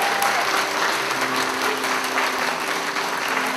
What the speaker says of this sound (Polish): Należą im się wielkie brawa.